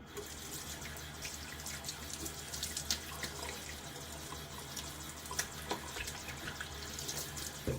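A razor is rinsed under a running tap during a wet shave, with a steady close stream of water splashing into a sink and a few brief clinks and drips.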